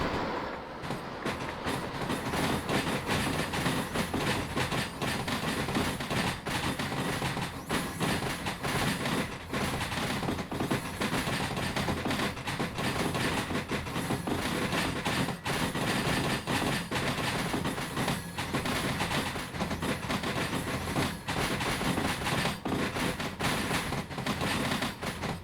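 A train rolls steadily along rails in the Derail Valley video game, with its brakes released on a downhill stretch. A dense continuous rumble and clatter of wheels fills the scene at an even, close level throughout.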